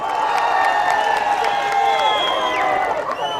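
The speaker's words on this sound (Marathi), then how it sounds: "त्यांचे टाळ्या वाजून स्वागत करावं" Crowd at an outdoor political rally in Daund clapping and cheering in welcome, a dense, steady wash of applause with whoops, close and loud throughout.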